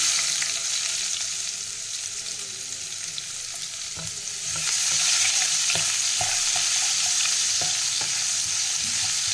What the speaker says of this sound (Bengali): তো ফোড়নটা ভালো করে ভেজে নিয়ে প্রথমে আমি দেবো কুচনো পেঁয়াজটা।